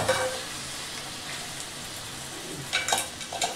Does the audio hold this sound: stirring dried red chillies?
yes